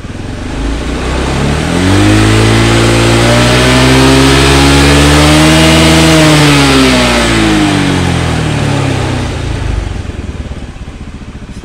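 A carbureted Honda Beat scooter engine is revved loudly up close, rising smoothly in pitch, holding high, then dropping back toward idle.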